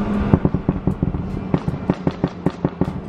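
Sharp, loud exhaust pops and crackles from a BMW 535i, firing in an irregular rapid series of gunshot-like bangs close to the car with no talking.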